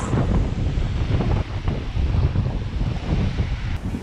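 Strong wind buffeting the microphone over breaking waves on a rocky beach at Bahia de Los Angeles, Baja California, a loud, steady roar with rushing surf beneath it.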